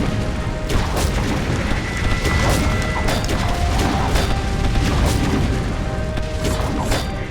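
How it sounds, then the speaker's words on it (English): An explosion in the fantasy strategy game Defenders of Ardania: a dense, booming blast with crashing, rumbling debris over a loud continuous bed, no talk. "What a splendid explosion!"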